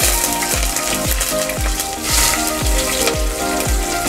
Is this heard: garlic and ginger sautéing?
yes